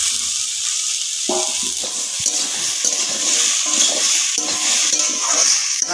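Mixed vegetables with eggplant fry and get stirred in a kadai, a steady sizzle with a spatula scraping and clattering against the pan in irregular strokes, close and fairly quiet.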